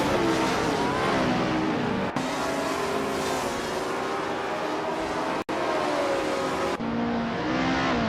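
A 1962 Porsche 804 race car in a racing video game, its engine snarling loud and continuous for the whole stretch, with brief gear-shift dips and rising harmonic revs, no voices.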